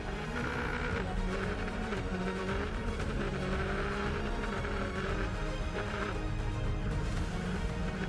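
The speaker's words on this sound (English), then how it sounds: "A rally car and a very experienced rally driver." A rally car with a very experienced rally driver is driven hard at high speed, its engine roaring and revving continuously with occasional tire noise, loud and close throughout.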